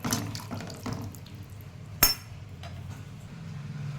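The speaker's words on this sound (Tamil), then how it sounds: "இப்போ வந்து குழம்புக்கு தேவையான அளவுக்கு தண்ணி விட்டுக்கலாம்." Water poured into a pot of dried fish curry after tamarind extract has gone in, a steady close splash with a brief clink of the vessel partway through and no talk.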